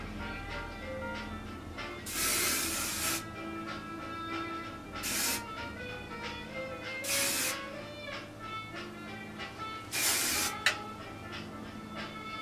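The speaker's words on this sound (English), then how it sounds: "take my hairspray, smooth it out" Three bursts of hairspray from an aerosol can, each about a second long, hissing onto hair during a vintage swing dance updo, with faint background music underneath.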